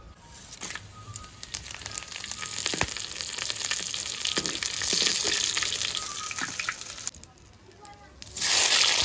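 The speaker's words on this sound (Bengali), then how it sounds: "ফোড়নে গরম মশলা, জিরে, তেজপাতা, শুকনো লঙ্কা" Whole garam masala, cumin, bay leaf and dried red chillies sizzle in hot oil left from frying potatoes, tempering for a meat curry; a steady, close crackling hiss runs throughout, swelling near the end, while someone talks over it.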